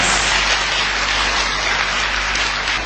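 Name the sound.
congregation clapping in church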